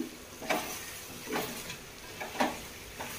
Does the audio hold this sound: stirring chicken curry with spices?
yes